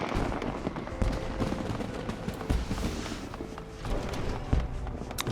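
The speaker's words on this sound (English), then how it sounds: "A lot of fireworks being set off." Scattered pops and crackles of fireworks going off in Final Fantasy XIV, irregular sharp bursts at a moderate distance layered over a busy town ambience with faint footsteps.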